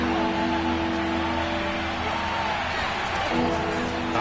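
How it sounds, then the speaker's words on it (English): Stadium crowd murmur in the Madden football video game, a steady broad roar with low sustained hum running the whole stretch, swelling slightly near the end, with no clear cheering peaks. "Crowd getting in it a bit already"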